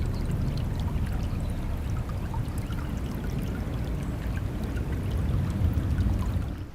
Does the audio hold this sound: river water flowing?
yes